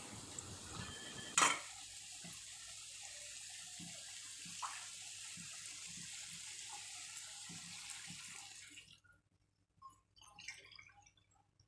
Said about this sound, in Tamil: நான் 2 கப் தண்ணி விட்டுருக்கேன்.